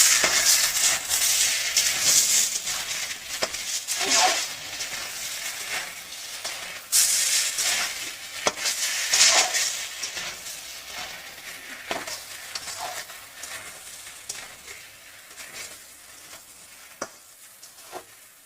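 Potatoes and kohlrabi sizzle and hiss steadily in a hot pan of oil, with occasional louder stirring scrapes and spatters up close, on a gas stove as fish curry is prepared; no one speaks.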